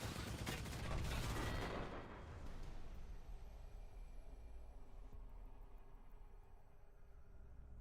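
Loud burst of gunfire in the battle royale game Apex Legends, rapid shots for about two seconds that cut off and give way to a quieter hum with a faint tone.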